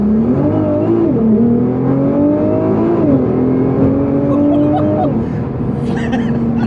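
Nissan GTR R35 with over 600 hp accelerating hard, heard from inside the car: a droning engine note that climbs in pitch through several gear changes, loud and steady.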